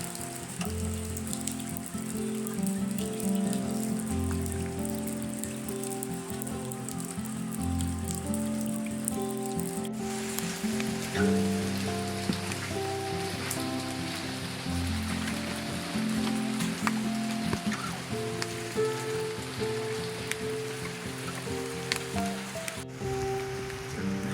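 Steady rain patters on surfaces all around at Temple 51 in Matsuyama, Shikoku, Japan, a dense continuous hiss of drops with no voices.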